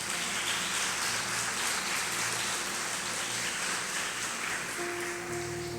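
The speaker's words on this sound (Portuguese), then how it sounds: "Vamos dar um aplauso a ele" A church congregation applauds a pastor during a service, producing a broad, steady wash of many hands clapping that fills the room, with a low hum and a faint tone entering near the end.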